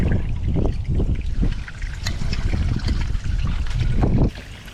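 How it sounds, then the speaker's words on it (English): Water trickles and splashes continuously out of a boat under repair, pouring from several leaks at once. The close, uneven gushing carries on without talk until it stops abruptly near the end. "We got water coming out from every angle on this thing."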